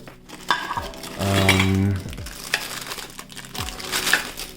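Steel camping cookware lid handled close by: several metallic clanks and scrapes, with a sustained ringing clang in the middle, then lighter rattles and taps.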